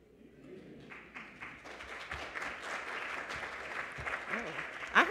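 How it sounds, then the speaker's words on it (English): Applause from an audience gathered for an evening event at the Schomburg Center, starting faint and swelling into a full, steady round of clapping. "you guys are clapping already"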